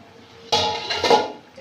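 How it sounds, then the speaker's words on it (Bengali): A lid comes off a cooking pot in a Bengali village kitchen where a fish-head cabbage curry simmers: a sudden metallic clank, then a short stretch of rattling and clinking up close. "ঢাকনাটা খুলে নেব।"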